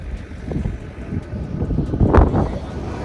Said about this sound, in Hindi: बहुत ज़्यादा ठंडी हवा चल रही है